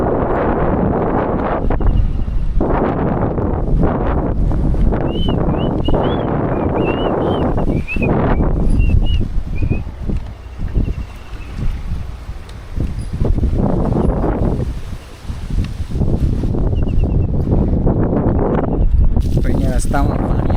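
Wind gusts past the microphone beside a roadside stop on a long cycling trip, a loud, steady rush with buffeting that dips briefly near the middle, while someone speaks over it.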